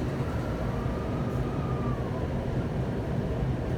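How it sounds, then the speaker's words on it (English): Train pulling away from a station, heard as a steady low rumble with a faint rising whine underneath, continuous and fairly close throughout, with no one talking. "this train leaves at 46 past the hour, and bam, we should be taking off right now"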